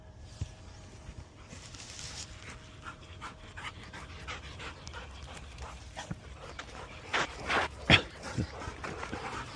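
Three Labrador retrievers pant rapidly and steadily during dummy-launcher training outdoors, with occasional soft whimpers and a few louder rustles and thumps nearby.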